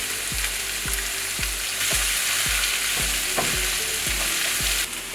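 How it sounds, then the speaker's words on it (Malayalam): Sliced onions sautéing with salt in hot oil for a Kerala-style beef ularthiyathu, a loud steady sizzle broken by regular scraping strokes of a spoon in the pan, close up and without talk. "സവാള എണ്ണയ്ക്കകത്ത് കിടന്ന് നല്ലപോലെ വഴലട്ടെ"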